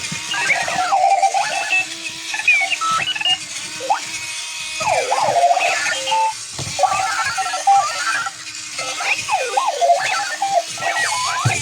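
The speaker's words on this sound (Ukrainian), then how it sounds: "Це той будильник, за яким треба бігати." A Clocky rolling alarm clock rings with chirpy, warbling electronic beeps in repeated bursts, loud and close, mixed with whirring and bumping as it rolls around indoors.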